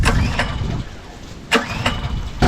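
The gas engine on a used 22-ton Dirty Hand Tools log splitter catches and runs at a rough, loud idle, with a few sharp mechanical clanks and surges breaking through the steady rumble.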